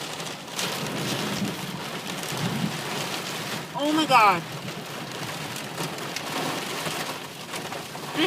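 Heavy rain pours steadily on a car during a thunderstorm with lightning and flooding, a dense roar throughout; a woman exclaims briefly over it midway.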